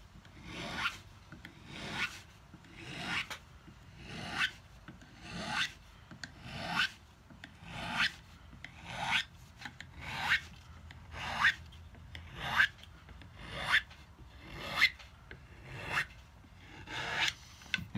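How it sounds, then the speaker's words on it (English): Abrasive grit being rubbed and rolled along the frets of a cigar box guitar neck, a close, steady rasping stroke repeated roughly fourteen times in an even rhythm, with no talking. "I put the smooth side down, the grit side toward the fret, and then roll it over."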